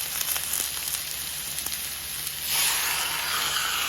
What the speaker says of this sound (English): we're just going to drop our meat into our oil. We got oil on that cast iron skillet.